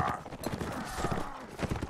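Horse hooves clip-clopping and a brief whinny in Mount & Blade Warband, a medieval cavalry battle game, set in a busy combat soundscape with rapid hoofbeats.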